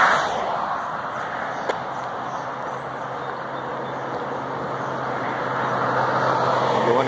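Cars passing on a road leading into a small town, a steady broad roar of tyres and engines, fairly close, with one brief sharp tick and the traffic swelling slightly louder toward the end.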